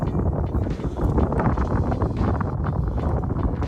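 Wind blowing outdoors at a portrait shoot, a steady broadband rush buffeting the microphone throughout, loud and continuous with no clear gusts or pauses.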